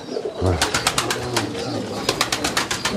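Pigeons coo inside a coop, several soft repeated calls overlapping near and close, with a person talking intermittently among the birds.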